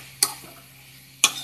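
Cut papaya pieces stirred in a pan: two crisp scraping clicks of the spoon about a second apart, over a faint low background hum.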